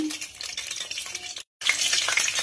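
Bay leaf tempering sizzling in soybean oil in a kadai, a bright close crackle broken by a brief silent gap, then resuming louder.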